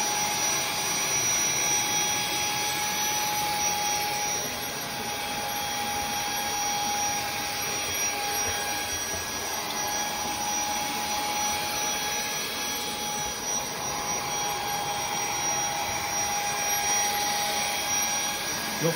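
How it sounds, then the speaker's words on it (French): A Numatic NuClean Compact 220NX scrubber dryer runs with its suction on, giving a steady, loud, continuous motor and vacuum roar with a whine that holds evenly throughout. "on rebaisse notre suceur, on réactive notre aspiration, on coupe l'eau et on récupère ce qu'on a laissé au sol"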